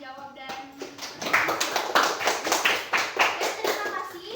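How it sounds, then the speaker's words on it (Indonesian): Group applause from a class, a quick burst of many hands clapping in rough rhythm after a brief spoken voice. "Sebelumnya tepuk tangan dulu buat kalian karena sudah berani menjawab"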